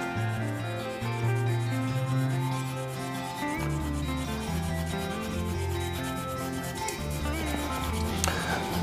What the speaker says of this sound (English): Going to give this a little bit of a rub with the hand now.